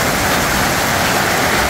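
Steady, dense hiss of rain pouring down near a waterfall in the evening, loud and close with no breaks and no voices.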